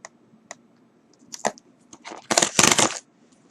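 A resealable zipper seal on a Dollar Tree snack bag is pulled open, giving a few scattered plastic clicks and then a loud, close crinkling rip that lasts about a second before stopping.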